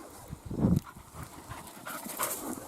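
A loose dog pants in short, quick bursts close by, with one louder huff early on and softer breathing after, mostly free of talk.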